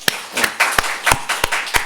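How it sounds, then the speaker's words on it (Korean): A few hands clapping in a church Sunday service, in a slow, uneven rhythm, about eight distinct claps, close and sharp. "우리 모두에게 한번 감사의 격려의 박수를 한번 보내줬으면 좋겠습니다"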